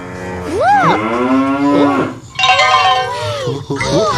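A cartoonish cow moos in long, loud, swooping calls close up, followed by a child-like voice speaking over further bovine lowing, as in a children's television show.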